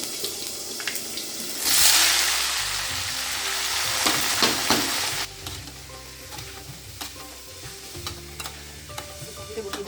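Brinjal frying in a pan at home, a steady sizzle with a burst of louder crackling early on and scraping stirs, the frying continuing more quietly under faint household sounds.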